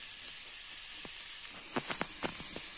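Shallot dropped into a pan of hot olive and sesame oil, a steady bright sizzle that drops in intensity as it hits, followed by several sharp crackles and spatters.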